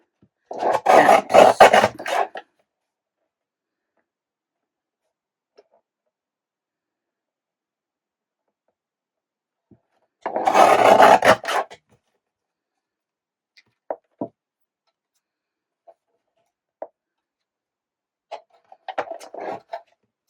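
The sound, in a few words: cutting small card strips for a handmade card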